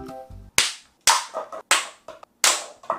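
A toy gun's trigger is pulled again and again, making about five sharp, close snapping clicks with short gaps between them and some lighter mechanical rattles.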